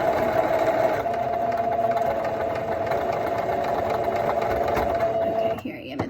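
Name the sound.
sewing machine stitching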